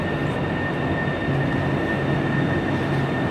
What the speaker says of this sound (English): the lovely underground bus station here in Seattle, where trains and also buses all use the same tunnel